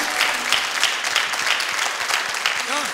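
An audience bursts into steady applause at a live poetry and saz performance, sustained clapping that fills the hall without pause before a voice starts near the end.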